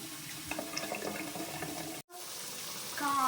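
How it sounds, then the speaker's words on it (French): Water from a cooking pot of boiled potatoes poured off into a sink, a steady close splashing stream that briefly cuts out, then resumes and grows louder. "prenez le chaudron et vous prenez l'eau et vous retirez un tout petit peu d'eau"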